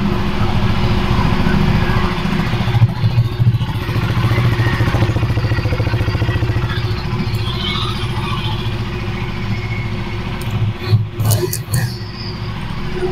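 A 2024 KTM 390 Duke's single-cylinder engine idles steadily and loudly up close, with a few brief mechanical clicks and small rises partway through.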